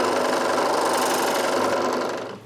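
Power tool cutting a slot in a wood block, a loud, even buzzing hum with a slight rattling vibration that holds steady and then fades a little at the end.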